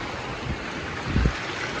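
A heavy wind and rain storm in a village makes a steady broadband rush with low gusty thumps, loud and close, and no voices.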